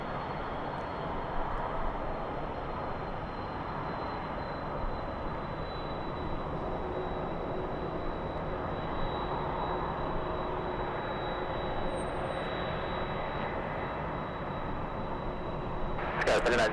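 Air Premia jet airliner at Los Angeles LAX airport, a steady broadband engine roar with a faint high whine holding throughout, loud and continuous, with a brief sharper burst at the very end.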